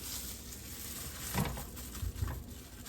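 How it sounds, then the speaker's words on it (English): Ground beef and onion frying in a pan, a steady quiet sizzle with a few scraping stirs of a utensil near the end. "ground beef in the pan with the onion"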